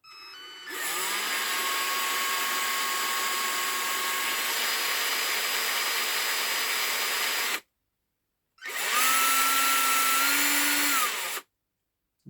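A machine spins a shaft held in its chuck while being checked for vibration, giving a loud steady whine that runs several seconds, cuts off, then spins up again briefly before stopping.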